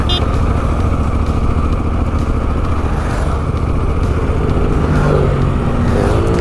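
A motorcycle engine roars loud and close throughout during a wheelie attempt, a continuous throaty drone with rising revs near the end.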